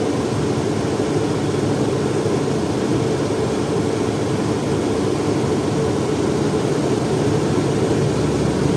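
A Proton Saga's 1.5L I-GT engine idles with the air conditioning running, a steady, low, even hum with a constant hiss and no changes in pitch or level.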